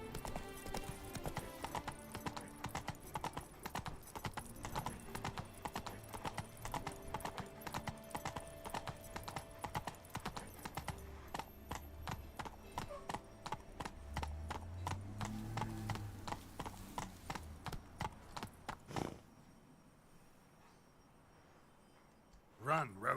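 Roach, the horse in the Witcher 3 video game, gallops with rapid rhythmic hoofbeats on hard ground, including a brief whinny, before the hooves slow and stop near the end over quieter game ambience.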